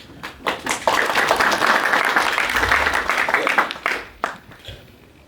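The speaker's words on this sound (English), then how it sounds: "You must clap for yourself too." Students at a program clap for themselves, the applause starting with a few scattered claps, swelling into a loud, full round, then thinning out to a few last claps.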